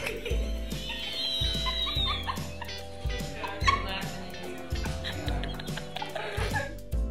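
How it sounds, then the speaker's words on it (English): A scared dog, caught chewing a sock, lets out repeated short yips and whimpers in an uneven rhythm, close and fairly quiet, with what sounds like light laughter mixed in. "this dog, who is extremely scared of being caught by his dad while chewing on a sock"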